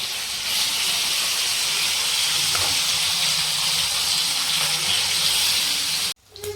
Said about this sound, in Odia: ବର୍ତ୍ତମାନ ମାଛ ଭଜା କମ୍ପ୍ଲିଟ୍ ହେଇ ଆସିଲାଣି ମୋର